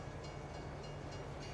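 Steady rumble of a train rolling past in Farming Simulator 22, a continuous low drone with faint rail clatter that holds at an even level throughout.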